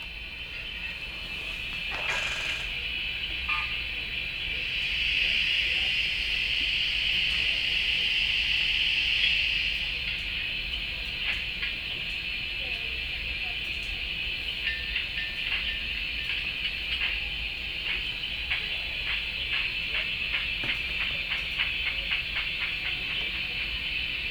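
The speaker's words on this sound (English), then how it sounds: "Let's put this on the track and back the locomotive into it and see if they can couple together." A Bachmann OO9 narrow-gauge model locomotive backs slowly into a boxcar to couple, giving a steady motor whine and hiss with a run of light track clicks toward the end.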